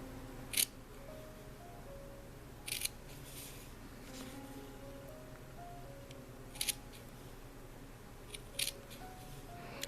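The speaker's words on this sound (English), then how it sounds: "cutting right up close to this edge, like that." Scissors snip through the wool fringe of a punch needle project, a handful of sharp, faint, isolated clicks spaced several seconds apart over quiet soft background music.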